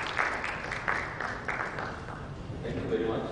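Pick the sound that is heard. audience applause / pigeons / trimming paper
audience applause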